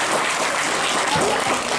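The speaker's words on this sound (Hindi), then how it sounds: "मैं आप सबसे विनती करूंगा कि इनके लिए एक बार जोरदार ताली से स्वागत करें।" An audience claps together to welcome a guest at a community Dussehra celebration, a dense, steady burst of applause that fills the short moment without any break.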